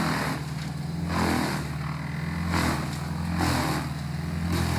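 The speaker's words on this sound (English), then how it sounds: "the BC2100XL effortlessly processes the dense gum tree branches and trunk" A BC2100XL wood chipper shredding dense gum tree branches and trunk, a steady mechanical drone with a low hum that swells and eases in slow waves as the wood feeds through.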